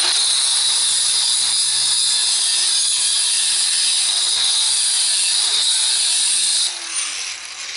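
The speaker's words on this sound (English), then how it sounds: "I took my grinder and I cut lines like this" An angle grinder cuts lines into a slab with a loud, sustained high-pitched whine and grinding hiss, steady throughout before easing slightly near the end.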